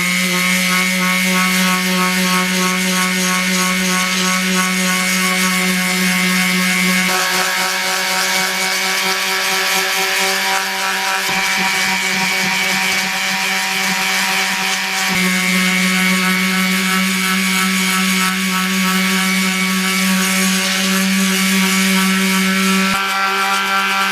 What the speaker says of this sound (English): I want to get started sanding this part out today.